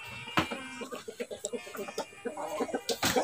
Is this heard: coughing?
no